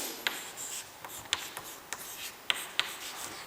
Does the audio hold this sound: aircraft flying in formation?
no